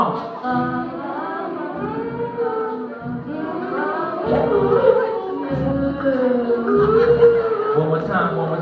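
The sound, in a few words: audience humming along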